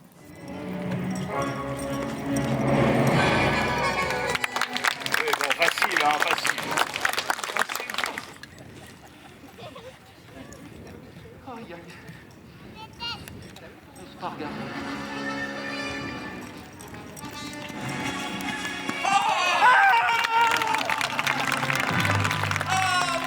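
Horses at a French equestrian setting near Saumur give clip-clopping hooves and occasional whinnies, moderately loud and continuous for over twenty seconds, mixed with someone talking over parts of it.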